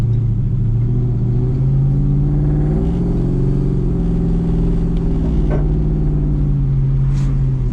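A VN Commodore with an LS1 V8 and stainless steel exhaust idles and revs with a deep, throaty exhaust rumble, loud and close, steady throughout with slight swells in pitch.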